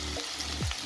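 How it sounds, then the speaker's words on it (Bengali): Onions and potatoes frying in a pan along with bay leaves while cooking a spiced chickpea dish, giving a steady close sizzle with a brief stirring scrape partway through and no talking. "এখন আমি পেঁয়াজগুলো ভেজে নেব, সাথে দিয়ে দেব আলুগুলো"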